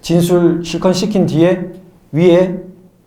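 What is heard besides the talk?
No everyday noises stand out.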